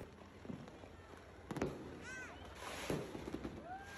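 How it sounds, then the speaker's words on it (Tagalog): New Year's Eve fireworks burst in a residential neighbourhood, a quiet, distant scatter of pops and crackles with a few whistling rockets rising, heard under faint background voices. "ni-enjoy na lang talaga namin yung panonood ng mga fireworks"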